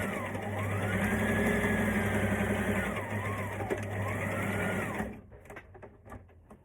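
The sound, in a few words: sewing machine stitching elastic in place on a maxi skirt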